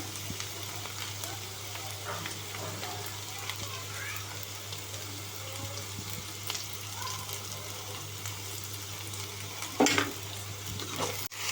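Ridge gourd pieces simmer in a curry pan with a steady low sizzle and bubbling throughout, a few faint clinks of utensils, and a brief louder scrape near the end.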